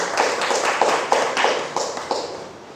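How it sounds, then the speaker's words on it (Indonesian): Audience clapping at a live talk in Makassar, a series of sharp claps in a fairly regular rhythm, moderately near with faint talk beneath. "Tepuk tangan."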